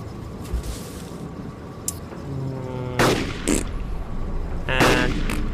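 DMR rifle shots crack in DayZ on the Takistan map: a few loud, sharp reports spaced apart, with quieter distant pops and ambient noise between them.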